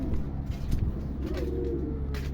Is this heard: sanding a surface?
no